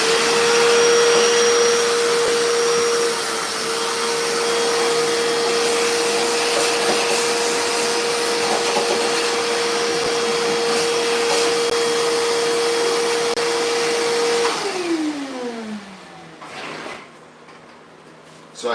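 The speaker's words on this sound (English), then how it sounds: "I gotta vacuum this out too." A Craftsman shop vacuum runs during bathroom plumbing prep, holding a loud, steady whine before it switches off and winds down in a falling drone near the end.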